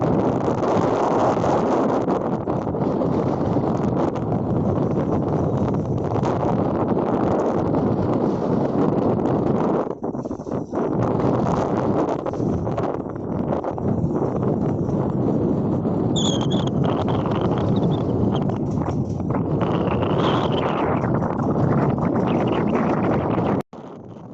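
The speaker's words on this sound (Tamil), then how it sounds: "எங்களை கூட தள்ளி விடுற அளவுக்கு தான் ரொம்பவே வேகமாக வந்துச்சு காற்று" A sudden strong gale blows over a boat out at sea amid rising waves, a loud, continuous roar of wind buffeting the microphone, dipping briefly midway and near the end.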